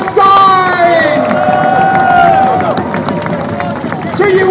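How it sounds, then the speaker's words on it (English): A crowd at a free speech and Palestine rally cheers, whoops and claps loudly and close by, with shouting voices rising above the clapping and a brief lull near the end. "let's give a big round of applause for that victory, for free speech, for human rights, and most of all for Palestine!"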